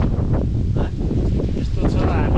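Strong gusty wind buffets the microphone in hill country near the Kali river, a loud, rough rushing roar that nearly drowns out a voice speaking underneath.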